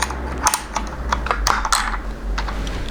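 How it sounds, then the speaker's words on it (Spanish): Keycaps pried off a mechanical Epomaker keyboard with a keycap puller, giving a run of sharp plastic clicks and snaps at irregular intervals, fairly close and alone against a low steady hum. "esto de aquí sirve para quitar teclas"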